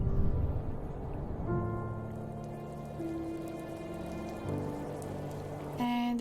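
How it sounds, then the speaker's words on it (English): Rain falling in The First Tree exploration game, a steady soft patter layered with sustained musical tones throughout. "And it started raining."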